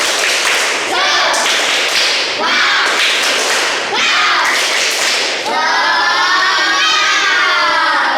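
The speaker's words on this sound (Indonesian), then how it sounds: "kita tepuk semangat dulu" A class of children claps out a spirited rhythmic chant, sharp loud hand claps in quick patterned bursts, ending in a sustained group shout.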